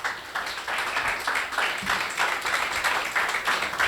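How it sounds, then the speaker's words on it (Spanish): Congregation in a church sermon breaks into brief applause, a mid-loud patter of many hands with rhythmic rises and falls lasting a few seconds, with no talk over it. "Dale un aplauso a Jesús."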